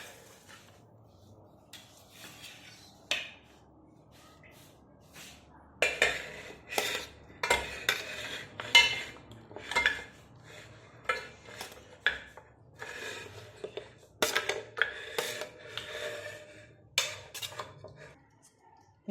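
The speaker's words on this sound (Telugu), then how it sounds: "ముందుగా ఏం చేయాలంటే బోన్స్ వేసుకోవాలి కుక్కర్లో" Mutton bones drop into a pressure cooker in a home kitchen, making a run of irregular metallic clinks and clatters, close and fairly soft, bunched in the second half.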